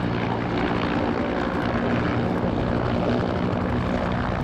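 Military aircraft banking into a sharp right turn at the Kisarazu air show, a loud steady propeller-engine drone holding close and constant throughout, with no talk.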